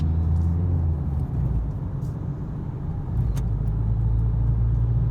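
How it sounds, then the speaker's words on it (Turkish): A car accelerating on a road during a driving lesson, with a steady low engine rumble that dips briefly at a gear change into third and then resumes, heard from inside the cabin. "Gaza basarak orta şeride çıkıyoruz. Bastık gaza. Attık üçüncü vitese."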